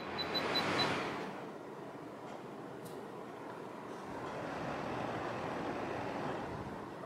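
Dreo and Vornado air circulator fans running side by side at a low setting, a soft, steady airy whoosh that swells slightly at the start and drifts faintly through.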